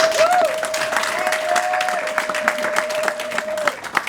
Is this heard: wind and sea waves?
no